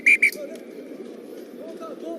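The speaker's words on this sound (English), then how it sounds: "So that's the halftime whistle in this 13th place semi-final." Referee's whistle at halftime of a rugby sevens 13th place semi-final in Vancouver, two short shrill blasts at the start over a steady stadium crowd murmur.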